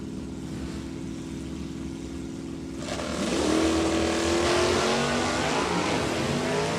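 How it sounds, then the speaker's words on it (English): A 1974 Pontiac Trans Am stock drag car with an automatic transmission launches at a drag strip. A steady idle rises into a loud, climbing engine roar that holds strong for several seconds. "Robert will put the gas pedal down first out of the VP Fuels lane"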